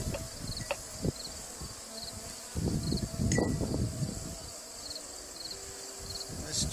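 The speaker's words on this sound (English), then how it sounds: "We're going to get some bees in this jar from a brood frame by brushing backward and letting them fall in." Honey bees are brushed off a brood frame into a mason jar, their close, steady buzzing joined by scattered rustling and brushing thumps, with a few higher bee whines passing near.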